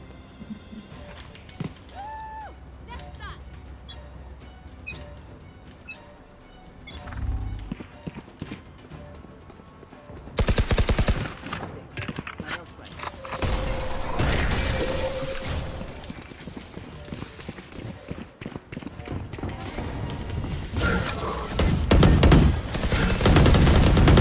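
Gunfire in a shooting video game arrives as scattered sharp bursts and rapid volleys, louder in the second half, mixed with other game noises.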